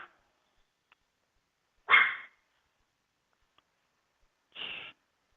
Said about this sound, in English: Little dog has a barking problem.